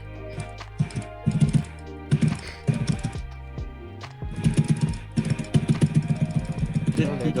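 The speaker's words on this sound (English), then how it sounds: "Of course, I'm gonna smash my keyboard." Computer keyboard being smashed hard during gaming, bursts of rapid clattering key strikes in clusters, loud and close, with music and some talk around it.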